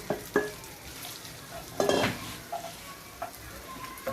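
Egg sauce for carbonara is stirred in a hot pan, with soft sizzling and scraping broken by a few sharp utensil clinks against the metal.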